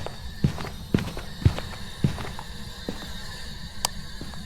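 Footsteps in an SCP horror video game thud in a loose, irregular walking rhythm, a handful of distinct steps at moderate distance over a quiet background.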